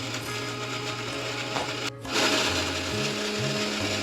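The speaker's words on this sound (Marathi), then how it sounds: "त्यानंतर त्यामध्ये थोडं पाणी ॲड करायचं आणि ते मिक्सरला बारीक फिरवून घ्यायचं." A kitchen mixer grinder whirs loudly and continuously while blending coconut, chilli and garlic into a paste with a little water, its motor pitch shifting and pulsing near the end; no talking.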